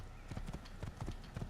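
Horse hooves galloping in the Assassin's Creed video game, a steady rapid clip-clop rhythm of several strides, close and fairly loud, with a faint voice beneath.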